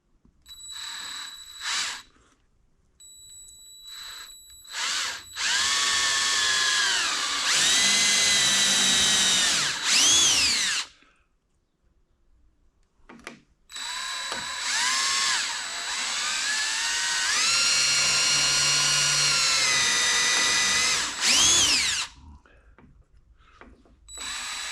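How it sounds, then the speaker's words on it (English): A power drill bores a pilot hole and countersink in cedar wood reclaimed from old power poles. After a few short whirs, the motor runs in two long, loud bursts with a brief pause between, and the pitch rises and dips as the bit cuts. "Drill a quick pilot hole and countersink at the same time."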